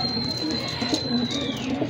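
Soft pigeon coos murmur in the foreground, with a faint high whistling tone fading away beneath them.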